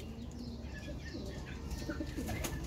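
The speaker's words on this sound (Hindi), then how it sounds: "ये दो नस्लों के कबूतर हैं, एक ये हीरा लाल कबूतर हैं" Heera Lal pigeons coo softly in a loft, low murmuring calls with faint chirps and a little wing rustle, quiet and close against a steady background.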